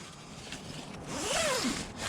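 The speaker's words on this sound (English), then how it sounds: "Zip this up." The zipper on the flap of a Roofnest Condor Overland 2 rooftop tent is pulled shut in one continuous rasping stroke, close and fairly loud.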